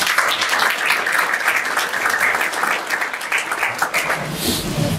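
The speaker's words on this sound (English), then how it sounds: "Let's give him a round of applause." An audience at a primary election candidates' forum claps steadily and loudly, sustained applause filling the whole stretch without a break.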